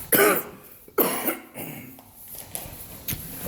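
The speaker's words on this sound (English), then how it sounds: "I'm still coughing up phlegm and throwing up." Harsh, wet coughs from a person bringing up phlegm, a cluster of loud bursts and throat-clearing grunts spaced unevenly over a few seconds, close to the microphone.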